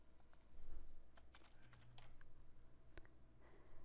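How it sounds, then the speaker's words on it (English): Quiet typing on a computer keyboard to enter a value into a database search field, a few scattered key clicks over a low steady hum. "type that value into the field"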